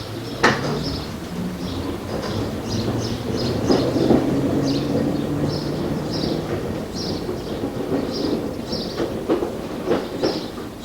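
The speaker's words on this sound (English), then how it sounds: "Today, the train trundles into Ongar Station" A passenger train trundles into Ongar Station with a steady low rumble and a clickety-clack of wheels over rail joints, along with metallic clunks and a squealing tone while it rolls in. It stays close and moderately loud.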